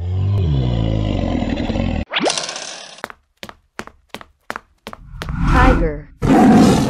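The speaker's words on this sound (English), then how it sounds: "Dinosaur." A cartoon dinosaur lets out a deep, sustained roar up close, followed by a rising whoosh, a string of sharp clicks and knocks, and louder noisy bursts, all from a children's animal-painting animation.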